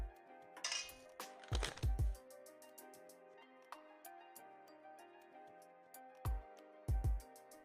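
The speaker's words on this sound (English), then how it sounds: "And mix that really well." Cream cheese and sugar being mixed in a bowl for tiramisu, heard as sharp clinks and knocks of a utensil against the bowl, scattered irregularly over quiet background with a soft tonal hum.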